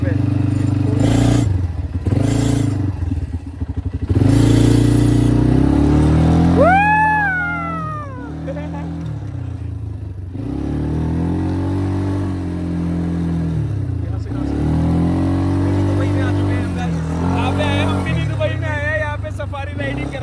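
An ATV engine droning and revving while riding over desert sand, a steady low motor hum with a rising whine midway, as people talk excitedly over it.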